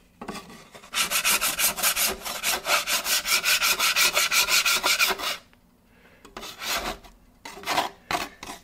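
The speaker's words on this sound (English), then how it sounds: "the oil will just make it scrape right off" A metal scraper rasps caked-on residue off a Vevor 22-inch flat top griddle in quick, loud, rhythmic strokes for several seconds, then pauses and returns with a few sharper separate scrapes.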